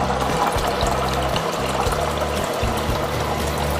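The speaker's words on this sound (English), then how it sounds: "And then I can just open this valve up, and that's distilled water going in." Distilled water runs from an opened valve into a jug, a loud steady gurgling pour with a continuous splashing rush and no voices.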